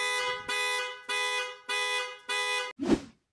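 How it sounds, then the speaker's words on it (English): A Mercedes car alarm, triggered by the GUARD 360 motion sensor, blares in five evenly spaced, loud horn-like blasts, then cuts off with a short final burst. "The vehicle alarm has been triggered."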